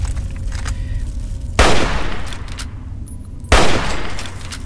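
Two loud magnum gunshots in Fallout 3 ring out about two seconds apart, each a sharp close blast with a decaying tail over low game ambience.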